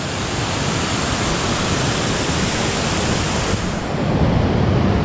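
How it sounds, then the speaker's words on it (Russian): The Kura river rushes and splashes over a small waterfall, a loud, steady broadband roar of churning water heard close up for the whole stretch, with some wind buffeting the microphone. "Ну, река Кура, конечно, тут прям совсем. Смотрите, как и плещется."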